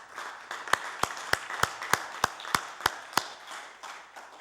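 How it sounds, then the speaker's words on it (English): Sparse applause in a House of Assembly chamber, about ten distinct, evenly spaced loud claps over a low room murmur, tapering off after a few seconds. "ask that a warm round of applause be given to him"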